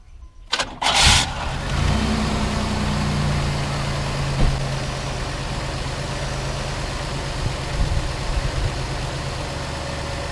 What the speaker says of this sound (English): And just like that, we've started our car.